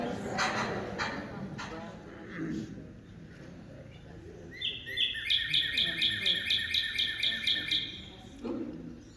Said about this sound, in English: Warm brown back, and a nice yellow eye. State bird of Georgia.